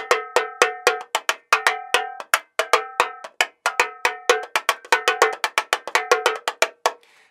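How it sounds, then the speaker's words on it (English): Tamborim, a small Brazilian frame drum, played softly in a steady rhythmic pattern of sharp, bright strikes with ringing overtones, close and alone with no other sounds. "So here's the tamborim. Hold it like this. And here's what it sounds like."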